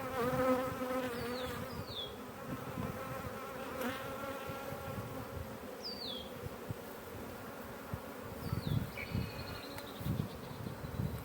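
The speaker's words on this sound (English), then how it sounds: "I think it's a little bit easier if you go ahead and shake off all your bees, make sure your queen's not there." Honey bees buzz steadily and close by on a hive frame during foulbrood testing, a dense continuous drone with a few faint bird chirps above it.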